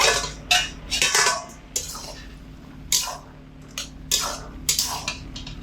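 A metal lid lifted off a pot of boiled chickpeas, with scattered clanks and clinks of lid and utensils against the pot, close and fairly loud, plus faint wet dripping between the hits.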